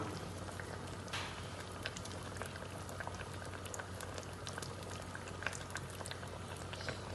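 Raw coconut oil poured into a hot pan that already holds onions for a Kerala fish curry, a continuous bubbling crackle and spatter like rain on a surface, even and moderately close.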